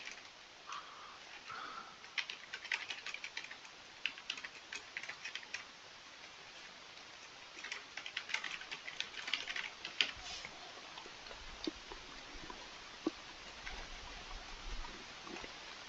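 Someone types on a computer keyboard in irregular bursts of soft clicking keystrokes, close but quiet, with short pauses between runs and no speech.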